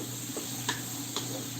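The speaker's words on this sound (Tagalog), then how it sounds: "Matutok tayong bawang, magiging translucent naman yung ating sibuyas." Garlic and onion sautéing together in a pan for caldereta, a soft steady sizzle with a few faint clicks of a spatula scraping the pan, no talking.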